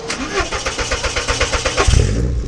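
A 1994 Porsche 968 Turbo engine cranks with a rapid, even rhythmic churning, then catches and fires into a loud, rough idle near the end, close up and loud.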